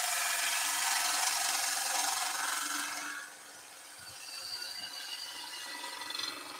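A skew chisel cuts a staircase spindle on a wood lathe, making a close, continuous hissing scrape. The scrape is loud for about three seconds, then softens to a lighter rubbing, with no voices.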